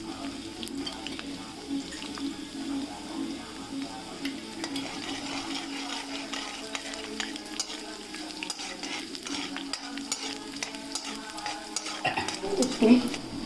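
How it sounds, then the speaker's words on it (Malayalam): Mustard seeds, fenugreek, green chilli, garlic and ginger fry in hot oil, giving a steady soft sizzle with stirring scrapes and crackle, moderately quiet and continuous, a slight clatter near the end. "അതിൽ എണ്ണ ചൂടാക്കി കടുകും ഉലുവയും പച്ചമുളകും വെളുത്തുള്ളി ഇഞ്ചിയും കൂടിയിട്ട് നല്ലോണം ആദ്യം വയറ്റണം"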